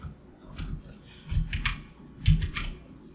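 Computer keyboard keys are pressed in a few scattered taps and clusters of clicks, close and fairly soft, during work in MS Word.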